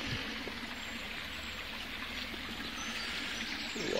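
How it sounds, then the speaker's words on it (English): Steady rushing and splashing of a small waterfall in Peasholm Park, Scarborough, heard close and continuous with no talking, as water spills and trickles over rocks. "Waterfall there."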